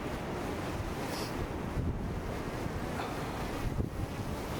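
Strong wind gusts in a snowstorm buffet a DJI Mini 4 Pro drone, a constant loud roar of wind across the microphone that swells in harder gusts, with no voices.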